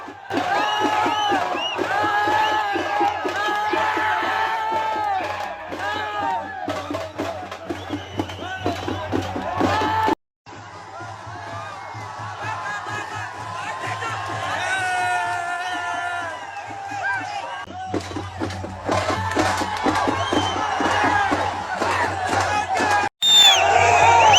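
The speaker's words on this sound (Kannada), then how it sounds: "ಭಕ್ತರು ಶಿಳ್ಳೆ ಚಪ್ಪಾಳೆ ಹಾಕಿ ಸಂಭ್ರಮಿಸಿದರು" Devotees at the Maddooramma temple fire-walk festival cheer, whoop and whistle as a loud, continuous crowd roar, with clapping and shouting voices mixed in and one brief drop near the middle.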